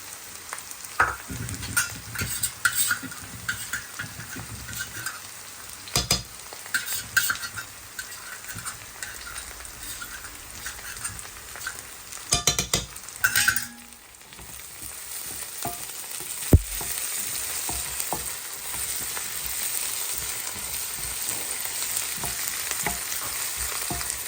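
Shrimp and onions fry for fried rice, a loud steady sizzle with stirring and utensil scrapes against the pan, rising into a stronger hiss later, no voices.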